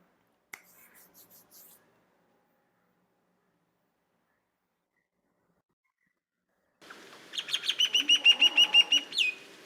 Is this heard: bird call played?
yes